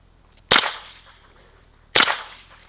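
A KR9 fitted with a JMac Customs Banka suppressor fires supersonic ammo in two sharp, cracking shots about a second and a half apart, each leaving a short ringing tail outdoors.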